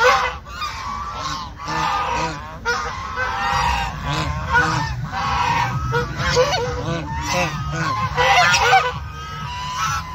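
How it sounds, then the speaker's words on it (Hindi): A large flock of geese honks continuously and loudly at a park pond in Ayub Park, Rawalpindi, overlapping calls rising and falling with steady background noise and no speech. "ये बतखों की दुनिया है मेरे ख्याल से, बतखों की, गीस की।"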